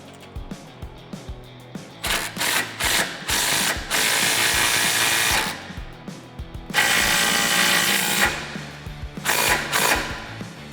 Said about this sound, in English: So we have our impact, and we're going to tighten everything down.